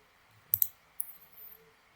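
Two quick computer mouse clicks close together, then a fainter third click, made while working in DIPS geological analysis software, quiet and close with no talking.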